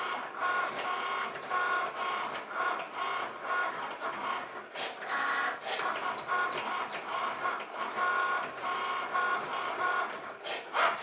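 A Cricut cutting machine running, a steady whirring motor hum with repeated shuffling passes and brief clacks of the carriage, close and continuous.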